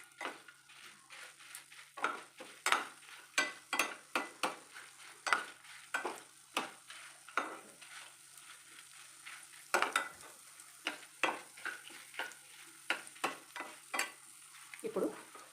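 Coriander seeds and peanuts are dry-roasted in a pan for chintachiguru pachadi, with rhythmic scraping strokes of a spatula and faint sizzling, repeated steadily and close, with no voices.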